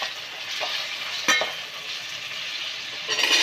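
Small tomatoes and softened onions sautéing in a pan as the base for a mutton biryani: a steady, close frying sizzle with a few brief stirring scrapes, and no voices.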